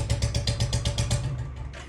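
Royal Enfield Bullet fitted with a heavy sound kit, idling close by with a rough, uneven thump as the engine misfires and fails to pick up revs, the beat faltering and fading near the end.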